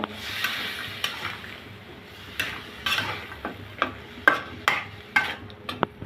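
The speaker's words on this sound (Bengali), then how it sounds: "এখন ভালো করে মশলার সাথে মিশিয়ে নিব" Long beans and potatoes stirred into spiced oil in a pan, a spatula scraping and clinking in irregular strokes over a soft, steady sizzle, close and moderately loud.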